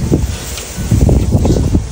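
Steady wind buffeting the microphone in low, gusty rumbles, with a faint rustle behind it and no one speaking.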